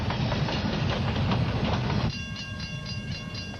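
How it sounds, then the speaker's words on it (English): An oncoming train roars loudly on the railroad with dense rumbling and rattling, then shifts to a thinner, steady clatter with tonal ringing, heard without talk. "There's a train coming."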